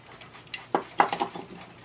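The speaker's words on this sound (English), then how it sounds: "you just squeeze a little bit and it'll tighten that bow up real nice" Small metallic clicks and faint scraping as a pocket watch bow is squeezed tight on an Elgin 18 size 17 jewel pocket watch, a few quick close ticks over about a second.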